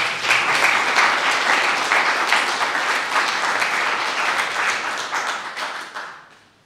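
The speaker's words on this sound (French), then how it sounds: "Avant le débat, on peut applaudir les intervenants." Conference audience at a public event in Metz applauding the speakers, dense sustained clapping from a full room that holds steady for several seconds before tapering off.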